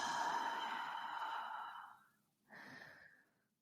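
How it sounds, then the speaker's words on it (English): Soft breathing during a vocal relaxation exercise: one long, steady breath for about two seconds, a brief pause, then a shorter, quieter breath, close to the microphone with no talking. "let's just inhale. And exhale."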